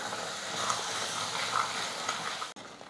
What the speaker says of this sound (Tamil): 2 நிமிஷத்துக்கு வந்து நம்ம எண்ணெயில் நல்லா வதக்கிக்கலாம்.